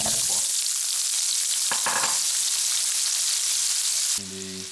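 Vegetables, celery among them, sizzle and fry loudly in a hot pot freshly used for searing beef short ribs, a steady dense hiss with a brief stir midway before the frying suddenly drops away near the end.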